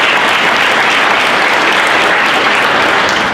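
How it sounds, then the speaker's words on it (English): Audience applause at a Salute to the Armed Forces event, a dense, steady wash of many hands clapping, loud and sustained throughout with no voices over it. "Please, round of applause for everyone."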